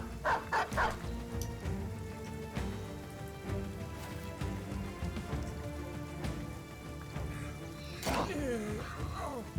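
War dogs barking in a battle in the video game Battle Brothers, several sharp barks and yips amid a dense, busy game soundscape with rain-like hiss and clashing noise throughout.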